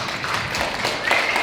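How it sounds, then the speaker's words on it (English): A live-show audience applauds a guest being welcomed: a dense patter of clapping, close and steady, lasting a moment. "Let's give a warm round of applause for Keith Smith."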